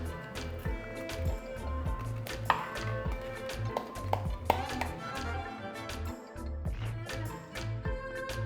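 A knife slices through food on a cutting board during recipe prep, giving a series of sharp close taps and thuds over a steady low background.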